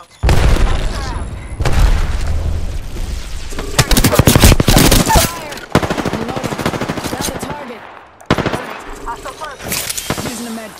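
Video game gunfire: bursts of rapid automatic shots and heavy booms in a loud firefight, separated by short pauses, with a player's voice talking over parts of it.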